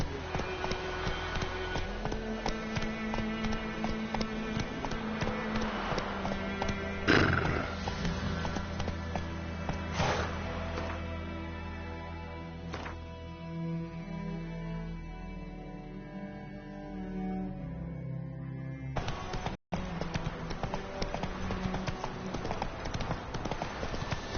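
Geralt's horse Roach galloping in The Witcher 3, a steady rapid clip-clop of hooves under game music that continues throughout, briefly cutting out near the end.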